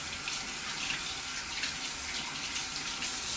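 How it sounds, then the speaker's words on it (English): A tap runs steadily into a sink as the water is warmed, a constant close hiss and splash with no pauses and no talking. "I'm going to get the water nice and warm."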